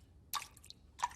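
Two separate water drips fall from a tap in a French cartoon, bright and close, with a short wet squish in between and near silence around them.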